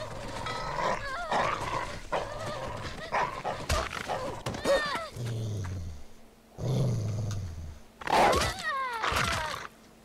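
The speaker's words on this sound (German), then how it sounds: "Was ist denn das für ein böser Hund, ey?" An aggressive dog in The Walking Dead Season Two video game snarls and barks in loud, rough bursts mixed with growls and in-game voices, with short pauses between the outbursts.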